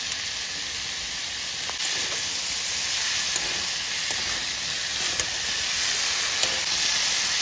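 A pan of banana blossom curry with cumin and green chili paste being stirred, giving a steady bright sizzling hiss throughout with a few faint spatula scrapes, close up and with no talking.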